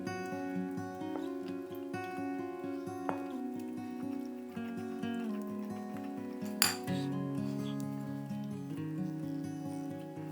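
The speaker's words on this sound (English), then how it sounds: "Now we want to add 2 eggs and then mix until we have a smooth and creamy consistency." A utensil clinks against a bowl in a quick, regular rhythm as eggs are whisked into elderflower fritter batter, close and fairly quiet beneath soft background music.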